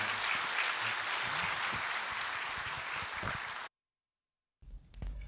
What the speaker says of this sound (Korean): 출산 장려금 드릴 때 박수로 격려해 주시기를 부탁드립니다.